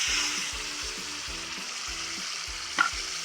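Ground muskmelon with crushed cardamom sizzles softly in a pan over a low flame, a steady fry broken by a regular rhythm of spoon strokes and one sharp scrape near the end.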